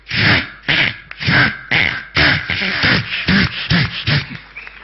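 A mimic's voice imitates a hacksaw blade cutting PVC pipe on a stage: about a dozen rasping back-and-forth strokes in a quick, regular rhythm, loud and close, with nothing else heard.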